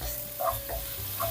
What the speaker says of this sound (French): Maintenant, je vais faire revenir jusqu'à ce qu'il soit translucide.